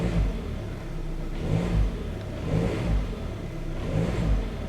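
A car engine idles and revs while shifted into reverse during a motor mount diagnosis, a steady mid-pitched hum with three rhythmic surges of revving, heard close and alone.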